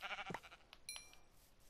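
A sheep in the video game Minecraft gives a brief bleat, faint and near, followed by a few soft clicks and a short high chime.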